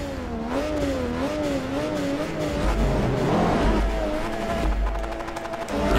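A pack of Mercedes-Benz racing cars revs and launches at the start of a Forza Motorsport 3 race, engines whining up in pitch and roaring loudly together throughout, with no talk.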